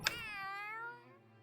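A cat meows in the video game Tales of Arise, giving one drawn-out, rising and then falling cry that fades away, fairly clear over a quiet background.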